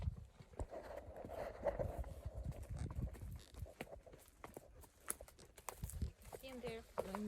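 A young horse walks nearby, its hooves clip-clopping in an uneven series of soft strikes, while a person talks over the steps.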